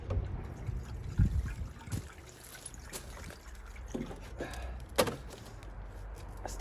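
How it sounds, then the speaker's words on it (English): Water poured into the top of a small container, a soft uneven trickle with a few light knocks and handling clicks, close and fairly quiet. "I'm going to pour a bit of water in the top."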